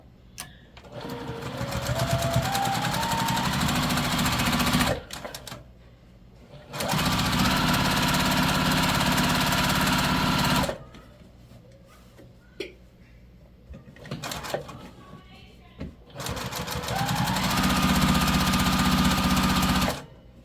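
A sewing machine quilts through a quilt in repeated loud bursts of steady whirring, separated by short pauses with light handling noises.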